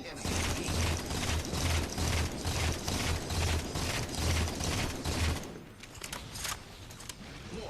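Battle rifle in Halo 4 emptying a full magazine as rapid, evenly spaced mechanical bursts for about five seconds, loud and close, then giving way to quieter game ambience.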